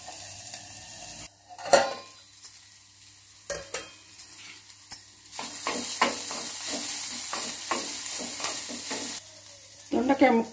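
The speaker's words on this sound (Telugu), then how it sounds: "దొండకాయ ముక్కలు మంచిగా వేగినాయండి" Ivy gourd pieces fry in a pan with a steady broadband sizzle, broken by a series of scraping stirs and a few clinks against the pan, with no voices.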